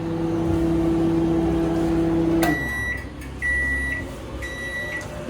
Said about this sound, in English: You put it in the microwave, close it, and then microwave it for a minute.